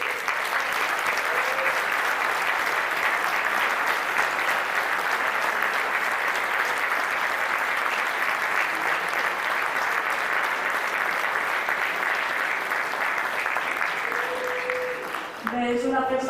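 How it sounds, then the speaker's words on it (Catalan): Audience applause at a cooperative's 102nd anniversary celebration: sustained, even clapping from a large crowd heard continuously for about fifteen seconds, with faint voices near the end as it dies down. "I demano un fort aplaudiment per a mi."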